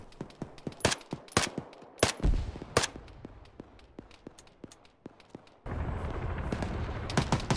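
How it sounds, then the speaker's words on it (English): Gunshots in the military game Arma 3: sharp cracks, some isolated and some in quick clusters, loud against a low rumble that thickens into a denser noise near the end. "Start wildly popping shots at him"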